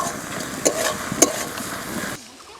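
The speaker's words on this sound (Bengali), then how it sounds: "কাঁচা লঙ্কা চেরা, আদা বাটা, রসুন বাটা সব কিছু উপকরণ আমি ভালোভাবে কষিয়ে নেব।" Onion, slit green chili, ginger paste and garlic paste sautéing in a pan for chicken curry, a steady sizzle with two sharp clinks of a spoon against the pan before it cuts off abruptly.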